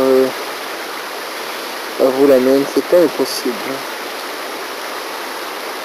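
River stream flowing near a village in Zahamena reserve, Madagascar, a steady close hiss of rushing water throughout, with someone speaking briefly at the start and again in the middle.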